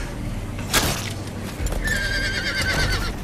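Horses whinny loudly in The Walking Dead video game, one sharp neigh followed by a longer wavering whinny, with clip-clop and rumbling game ambience beneath, no speech.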